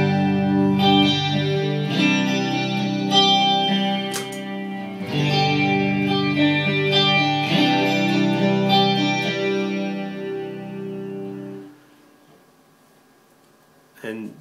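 Sustained electric guitar chords through a graphic EQ pedal with shimmering chorus and lush reverb from a MidiVerb, ringing out for several seconds before fading into a brief quiet tail.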